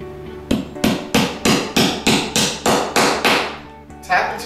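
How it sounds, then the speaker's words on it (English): A hammer drives a stainless steel ring shank nail into a wall to hang a picture, with about ten sharp, loud, evenly spaced strikes heard up close, each ringing briefly before the next. "Tap into the wall and make sure the hanger is straight."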